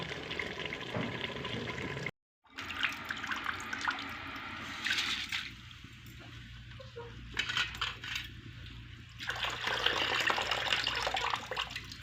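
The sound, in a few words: potatoes boiling in water in a pot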